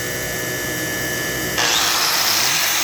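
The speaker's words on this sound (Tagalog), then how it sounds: "At ito naman, ang grinder, aking susubukan." An electric grinder powered by a mini generator whines steadily under a constant motor hum, then its pitch and loudness step up sharply partway through and hold there.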